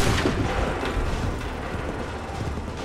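A musket volley in Assassin's Creed III, a loud rolling burst of massed gunfire that fades into a rumbling tail.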